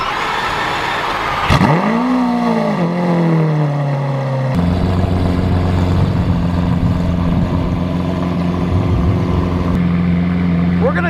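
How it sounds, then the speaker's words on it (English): A Lamborghini Aventador LP700-4 on its stock exhaust makes a cold start: a starter whine rises into a loud rev, then settles into a steady, deep, droning idle close by. "This could be the last cold startup with the stock exhaust."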